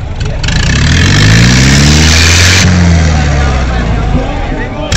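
Loud engines of an HMT 5911 and a John Deere 5210 tractor rev up and down close by before a tug-of-war contest, with rising and falling pitch sweeps over a steady mechanical rumble and hiss.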